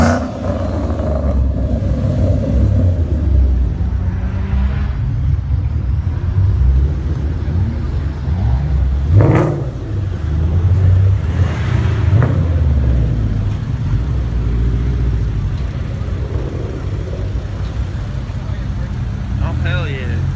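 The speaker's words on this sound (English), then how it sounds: "Rev it!" At an outdoor car show, a car engine rumbles with a low, steady growl and rises in surges as it is revved, with crowd chatter and voices close by.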